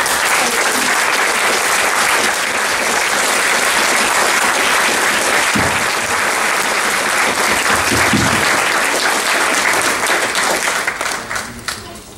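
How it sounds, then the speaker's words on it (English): A large audience at an annual recognition event gives loud, sustained applause for volunteer tutors and teachers, dense clapping that carries on for about eleven seconds before tapering off, with faint voices underneath. "Let's give you all a big round of applause."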